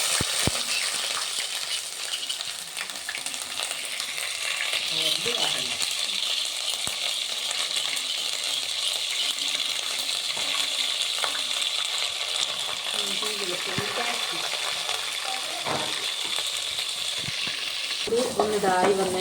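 Ginger-garlic paste sizzles in hot oil with fenugreek seeds for a crab curry, a continuous bright frying hiss with scattered pops and stirring clinks, and a voice faintly audible now and then.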